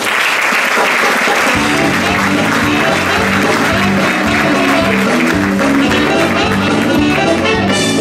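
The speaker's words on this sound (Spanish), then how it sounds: "Un fuerte aplauso para Silvia Cuevas y su monólogo" At a stand-up comedy show, the audience applauds a comedian after her monologue. Dense, loud clapping fills the room throughout, with rhythmic music playing under it.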